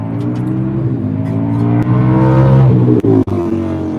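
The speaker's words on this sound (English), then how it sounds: "See if we can get it to crank." A Pro Mod race car engine at the track runs with a loud, close, rough idle and harmonic drone, rising briefly with revs and cutting out twice near the end.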